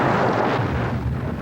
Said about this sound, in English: He fires the pyro and the sound effects, and it makes it look as though we've caused the explosion.